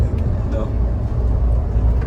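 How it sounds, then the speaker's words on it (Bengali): Inside a moving Greenline coach on a Dhaka to Chittagong highway run, a steady low rumble and wind rush from the bus body cutting through air, continuous and fairly loud with no gaps. "বেসিক্যালি গাড়ি চলার সময় বাতাসের সাথে ঘর্ষণের ফলে যে আওয়াজটা সৃষ্টি হচ্ছে সেটাই আপনারা এখন"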